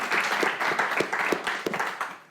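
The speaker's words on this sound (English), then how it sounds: "And again, a round of applause," A modest audience at a book launch event claps, a mix of scattered individual claps over a continuous patter, close and moderately loud, tapering slightly toward the end.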